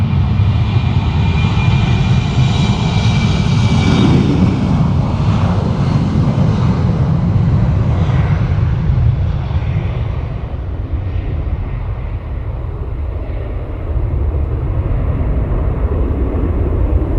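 A KLM airliner at Leeds Bradford Airport roars past, its loud sustained engine noise swelling and then slowly fading as it moves away, with no voices.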